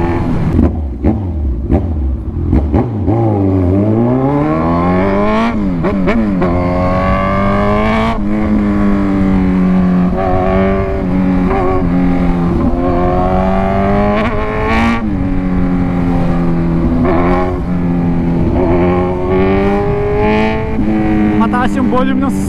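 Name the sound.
Suzuki GSX-S GT motorcycle engine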